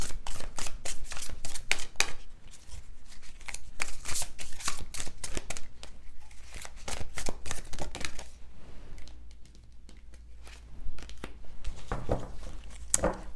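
Tarot cards riffled and shuffled at close range, a quick crisp flutter of card edges in bursts, easing into softer slides and taps as cards are drawn and laid out.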